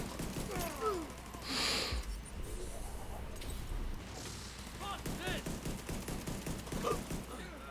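Pistol fire in a shooter video game: sharp, punchy shots ring out mid-clip amid a dense, busy mix of game sounds and scattered voices, fairly loud throughout.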